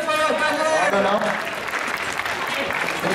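A crowd at a Japan-themed event tournament applauds a contestant, sustained clapping filling the room while a host's voice and music-like tones carry over the top at the start.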